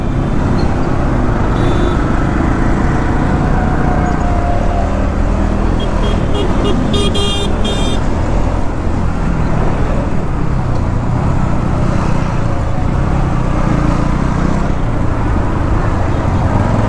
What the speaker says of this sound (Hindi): ट्रैफिक भी बहुत ही ज़्यादा मिल रहा है भाई, बहुत ज़्यादा ट्रैफिक।